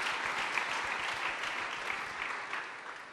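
Steady, dense applause fills a church gathering for the full duration, a sustained wash of many hands clapping at an even level with no pauses.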